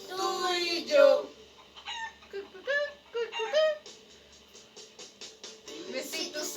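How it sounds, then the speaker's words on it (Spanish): A hen clucks and a rooster crows in a series of distinct calls with short gaps, clear and close, as part of a children's animal sounds sequence, with light laughter or voice near the start. "Dime si tú sabes cómo hace la gallina."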